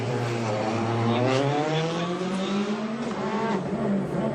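Citroën rally car driving on a special stage at Rallye Portugal, a loud close engine revving and rising in pitch through the gears with a sustained, strained roar.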